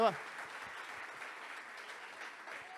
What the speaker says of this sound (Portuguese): Vamos dar um aplauso para eles, que eles merecem